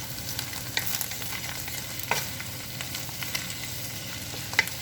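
Chopped onion and garlic sautéing in a pan on low heat for chicken chow mein. A steady soft sizzle runs throughout, with occasional clicks and scrapes of stirring and no voices.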